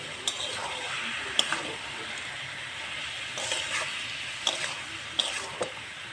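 Spinach fried in a pan with shrimp gives off a steady, moderate sizzle, broken now and then by sharp clicks and taps, likely from a spatula against the pan.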